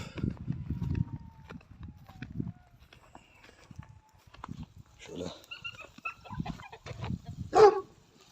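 A chicken clucks briefly among farmyard sounds, with a sharper call near the end; voices and shuffling are heard throughout.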